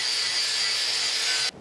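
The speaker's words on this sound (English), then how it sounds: "We're going to start by just wire wheeling these plates." Power wire wheel scouring rust off scrap steel plates, a loud steady abrasive hiss lasting over a second before cutting off abruptly, close with no talk.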